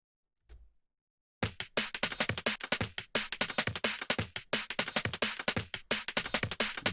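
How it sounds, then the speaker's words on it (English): A full drum and percussion mix from a heavy rock track kicks in after a short pause and one isolated hit, then plays dense, driving and loud, with steady rapid beats and crashes throughout. "together, the percussion will sound like this."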